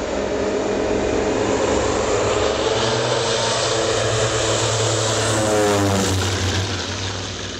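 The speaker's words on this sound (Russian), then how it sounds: "после чего самолет поднялся в воздух" Ilyushin Il-14 piston-engined propeller airliner, restored by enthusiasts, taking off and climbing away, its loud steady engine drone and propeller throb filling the air throughout with no voices.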